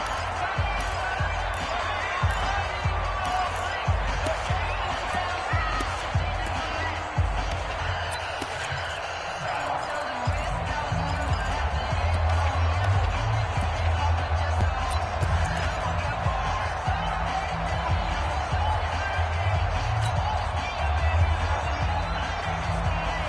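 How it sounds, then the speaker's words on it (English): A Steelers–Browns football stadium crowd builds a dense, steady roar that fills the whole stretch before a big third down, loud and continuous with no clear breaks. "the crowd getting into it as we come up on a big 3rd down"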